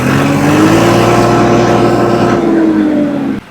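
John Deere tractor engine revving hard in a field, with a loud, steady, droning roar that holds high before dropping away at the end, and no voices.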